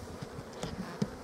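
Honeybees hum at the hive in a soft, steady drone, with a few individual buzzes flicking louder as bees pass near.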